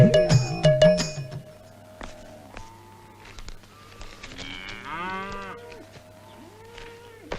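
Cattle, buffaloes and cows, low repeated moos rising and falling alone, several calls in close succession with a faint ringing at the start.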